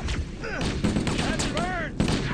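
Rapid gunfire from Halo: Combat Evolved, a dense burst of repeated shots with ricochet-like whines, loud and continuous, with a voice shouting in between.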